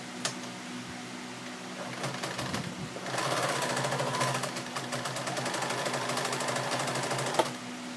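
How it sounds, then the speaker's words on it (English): A sewing machine stitching old denim jeans, starting with a few slow stitches, then running at a steady rapid mechanical chatter close by, with a short clunk near the end. "Something's wrong with the way the machine's threaded now"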